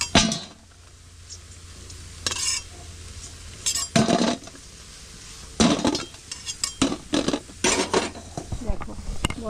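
A metal slotted spoon scrapes and clatters against a frying pan as fried chana dal fritters are lifted out of hot oil, with sharp irregular clinks between quieter pauses and faint sizzling underneath.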